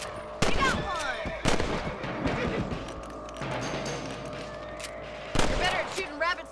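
Rifle shots at rabbits in Red Dead Redemption ring out as a few sharp, loud cracks spaced several seconds apart, set against game ambience and a voice speaking.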